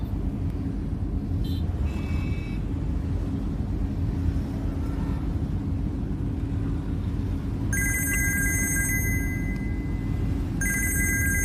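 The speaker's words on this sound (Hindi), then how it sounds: "अब मम्मी फोन कर रही हैं" A phone rings in two electronic bursts over a constant low engine rumble, as if heard from inside a moving car.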